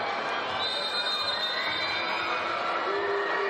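A packed volleyball arena crowd in Istanbul whistles and jeers during a Champions League match, producing a dense, steady roar with sustained high whistles threading through it for the whole stretch.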